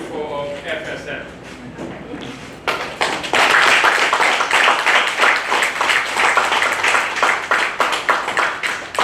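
A crowd at a handover ceremony for a 4WD ambulance vehicle, given by Japan to FSM, breaks into sustained, dense applause after a quieter moment with some voice at the start.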